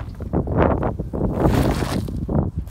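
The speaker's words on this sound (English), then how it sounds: "That's how windy it is. Really windy." Strong wind roars and buffets the microphone in loud, gusty surges, continuous throughout with no other sounds.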